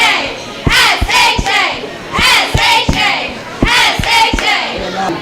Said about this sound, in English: Send us off with a cheer.